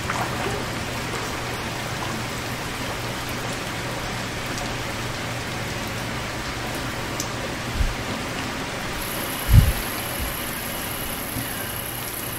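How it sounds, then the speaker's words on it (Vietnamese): Steady rain falls in the video game Placid Plastic Duck Simulator, a continuous even hiss throughout, with a couple of brief soft thumps near the end and no talking. "Hình như gần hết mưa thì phải."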